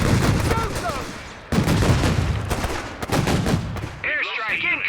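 Airstrike, gunfire and artillery fire in the video game Company of Heroes 3: dense, loud battlefield noise with repeated blasts and rattling shots throughout. A voice speaks briefly near the end.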